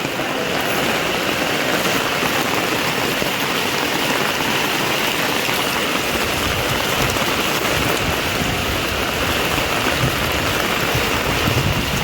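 Heavy rain pouring down during a monsoon downpour that has flooded a housing society, a dense, loud, unbroken roar of falling water.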